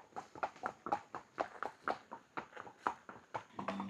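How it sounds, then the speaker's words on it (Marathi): A horse carrying a rider along a path at Matheran hill station makes an even, rhythmic clip-clop of hooves. The footfalls are fairly quiet, with no talking. "फायनली मी घोडा घेतलेला आहे, कारण की आपल्याला वेळ नसता पुरला, त्यामुळे आपण घोड्यावरती चाललेलो आहे"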